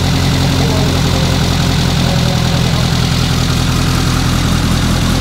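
Renault R8 Gordini engine idling just after a restart, a steady, loud, close rumble with a constant low throb and no pauses.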